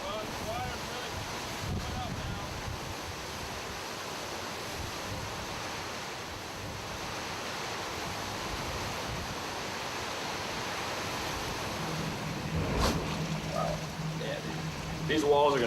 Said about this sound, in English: Waves more than 20 feet high rushed inland.